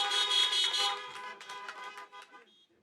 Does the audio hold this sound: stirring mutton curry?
no